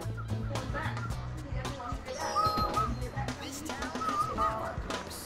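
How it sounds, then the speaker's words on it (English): Someone whistles short melodic phrases during a family game of Monopoly, thin tones rising and falling over a background of people talking and table noise. "Stop whistling"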